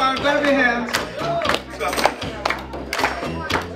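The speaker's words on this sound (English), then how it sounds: "Clap your hands. Come on, clap your hands." Variety show audience claps along in rhythm to a live performance of a song, the regular handclaps sounding under music and a voice urging the crowd on.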